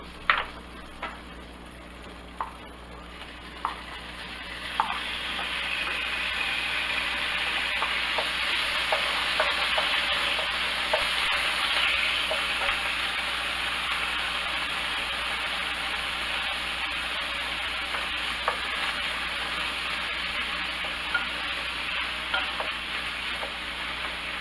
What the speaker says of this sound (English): We're going to cook this pork up first and remove it